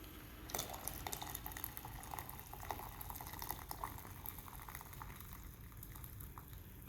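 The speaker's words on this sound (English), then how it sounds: "right now we're going to put hot water into the glass beaker" Hot water is poured into a glass beaker for a convection experiment, producing a steady, continuous bubbling, trickling wash with small drips and splashes that runs throughout at moderate level, with no talk.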